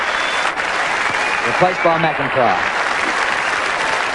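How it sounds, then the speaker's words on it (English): Loud, steady crowd applause from Adelaide Crows fans at a 1991 AFL Australian football match against the Brisbane Bears, as a player leaves the ground; a commentator talks over it throughout. "leaves the ground to loud applause from the Crows fans"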